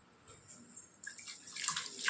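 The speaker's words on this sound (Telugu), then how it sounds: "కొద్దిగా వాటర్ వేసాము." Water being poured into raw pounded ginger-garlic paste in oil, a faint, close trickle that grows louder and splashier toward the end, with no voices over it.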